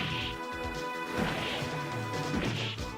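Street Fighter arcade game sound effects and music through a Q Sound chip, with dense, loud crashing hits and thwacks layered over a continuous musical bed, no talk.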